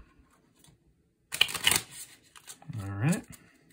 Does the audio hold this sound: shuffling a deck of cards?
yes